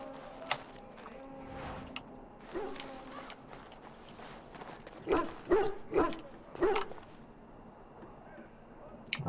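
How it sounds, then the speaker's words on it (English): In the video game Dragon Age: Origins, a dog barks several times at the King's Camp. The sharp, moderately close barks come in a quick cluster midway, over a murky camp background with creaks. "That's a dog."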